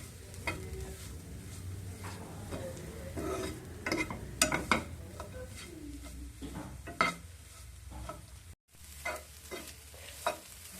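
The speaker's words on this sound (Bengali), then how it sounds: "ঘিয়ের সাথে নারকেলগুলো ভালোভাবে মিশিয়ে নেব।" Grated coconut is stirred through ghee in a pan with a steady scraping stir, clicks and knocks of a spoon on the metal, and a soft sizzle underneath, briefly cut by a short gap.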